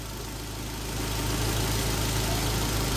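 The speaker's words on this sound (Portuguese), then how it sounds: "o motor está totalmente quente, a ventoinha está para armar, prestem bem atenção no barulho do motor." A fully hot car engine, treated with Auto Shine metal conditioner, idles steadily up close with a low, even hum and no talking; it grows slightly louder after the first second, with the radiator fan about to cut in.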